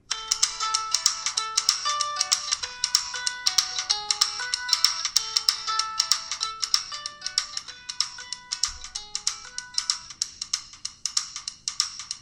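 Small built-in speaker of a TicWatch Pro 4G/LTE smartwatch plays a bright, tinny plucked melody with quick repeating notes, thin and lacking bass, alone with no talk.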